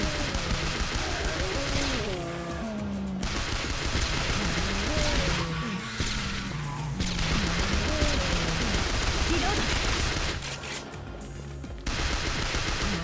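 Rapid gunfire from a zombie-shooting video game rattles on almost without pause for several seconds at a time, loud and close, under music and game sounds, with brief gaps between bursts.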